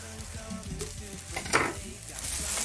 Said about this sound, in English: The bubble wrap.